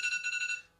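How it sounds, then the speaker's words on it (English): An alarm goes off at the end of an hour of podcast recording, a brief pulsing electronic beep that is faint and alone, then cuts out. "That's the alarm"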